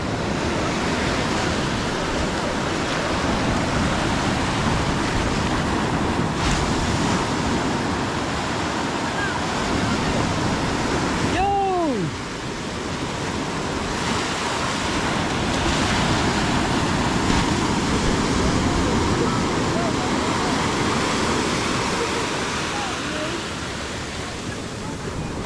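Sea waves wash continuously onto the shore in a broad, loud roar with steady surges, and a brief voice rises above the surf midway.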